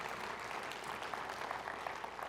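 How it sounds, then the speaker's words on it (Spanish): A church congregation claps together after a pastor's call during a Spanish-language sermon, a steady, dense patter of many hands that carries on throughout without pause. "Un aplauso al Señor que se lo merece."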